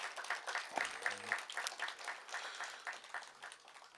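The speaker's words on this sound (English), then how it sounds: "let's give them a round of applause" Round of applause for city staff at a park community house grand opening, scattered clapping from a modest crowd with uneven bursts, mixed with a few voices in the background.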